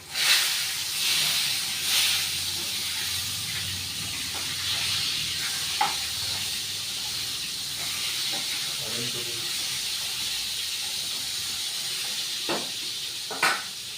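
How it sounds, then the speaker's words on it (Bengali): Continuous sizzling hiss of eggplant frying in hot oil, with a few sharp clicks and taps of a utensil. "বেগুন ভাজাটা উল্টে দিই।"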